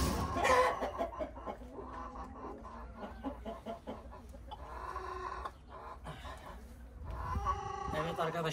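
Dwarf Cochin rooster clucking and squawking as it is caught by hand, several bursts of fowl calls close by amid handling noise, with a brief break partway through.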